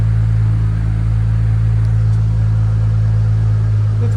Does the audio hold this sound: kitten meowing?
no